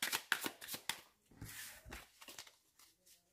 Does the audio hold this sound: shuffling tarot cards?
yes